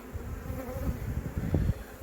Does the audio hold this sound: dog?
no